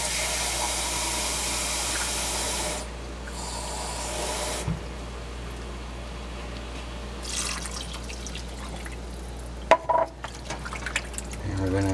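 Water from a can pours into pork green chile in a cast iron pot, a steady broadband wash lasting several seconds and easing off midway, followed by faint stirring clinks near the end.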